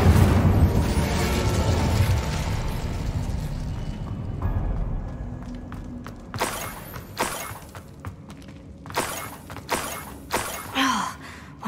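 An Incendio fire spell is cast in Hogwarts Legacy, with a roaring fiery whoosh, then a series of sharp bursting blasts and crackling impacts that keep recurring at irregular intervals.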